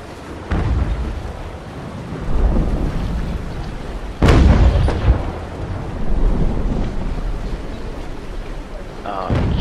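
Heavy naval cannon fire booms in the Naval Action sailing game, rolling low rumbles with one sharp loud blast in the middle, set against continuous sea and battle ambience and someone talking.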